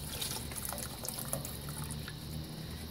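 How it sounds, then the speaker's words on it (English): Broth poured into a soup pot for chicken noodle soup, a steady close trickling and splashing of liquid running continuously with small drips. "I'm going to go ahead and add the rest of this broth in"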